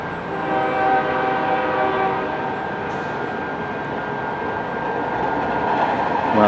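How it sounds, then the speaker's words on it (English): A SkyTrain-area railway horn near a bridge in New Westminster sounds as a sustained, steady multi-tone blast held for several seconds, fairly loud and close, over rumbling rail noise with no talk. "Well, that's not too bad of a horn."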